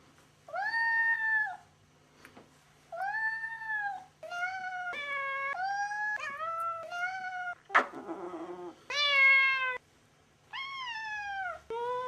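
A cat meows repeatedly while being cuddled, a string of clear, fairly close calls of varying length separated by short pauses, with a brief scuffling rustle in the middle and a quiet room hum beneath.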